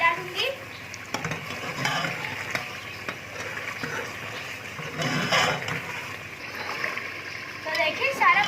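Masala for beef paya fries in a pot with a steady sizzle while a spoon scrapes and stirs, a voice talking over the cooking.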